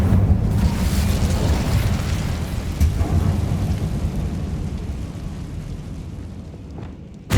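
A fiery Incendio spell in Hogwarts Legacy roars out as a loud, rumbling burst of flame, like a deep explosion, that slowly dies away over several seconds before a sharp final crack.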